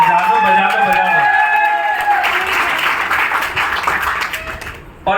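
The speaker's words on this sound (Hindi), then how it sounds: "एक बार जोरदार तालियां डीजे वाले भाई के लिए बजाओ" Audience applause for the DJ at a motivational open meeting in Modinagar, loud dense clapping over lingering music tones that fades over about five seconds before a brief burst at the end.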